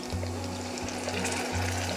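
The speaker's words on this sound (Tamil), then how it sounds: "இதில் கொஞ்சமாக தண்ணி ஊற்றிக்கோங்க." Water poured into a pan of Szechuan chilli paste with sautéed garlic gives a brief, steady splashing and trickling over a low electrical hum, with no one talking.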